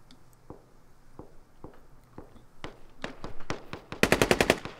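Gunfire in the military shooter game Squad: single shots spaced about half a second apart grow gradually louder, then end in a sharp, loud rapid burst of automatic fire.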